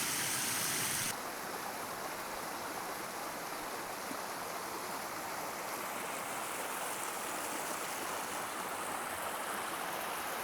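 Clear river water flows steadily at a trail crossing near the Ocoee River, a continuous broadband rush close by with no voices and no change in level throughout.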